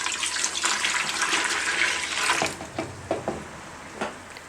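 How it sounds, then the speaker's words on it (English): Water gushes into a big cooking pot for about two seconds, a steady bright splashing pour that stops abruptly, followed by a few soft clanks and knocks of the pot. "get a big pot, pour 1 cup of water at the bottom pot"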